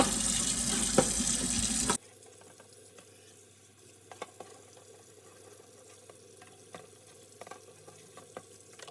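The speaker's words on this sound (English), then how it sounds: "there was a piece of grease in the creases that a little bit of scrubbing is getting off" Water runs from a tap while grease is scrubbed off a Ninja Foodi splatter shield, a loud gush of running water for two seconds, then quieter wet scrubbing and light knocks that go on steadily.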